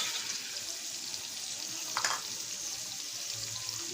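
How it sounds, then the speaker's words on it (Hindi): Kashmiri chilli powder and ajwain for an instant achar pickle are stirred in a pan: a steady soft sizzle with a single brief spoon scrape midway. "अब इसे हिला लेंगे।"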